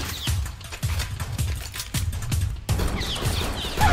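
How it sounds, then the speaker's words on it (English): Gunfire in a Roblox hood roleplay game comes as repeated sharp shots in quick bursts, fairly loud and close, with no voices. "Oh shoot, that boy's shooting at me."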